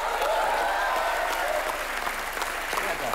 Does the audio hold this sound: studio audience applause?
yes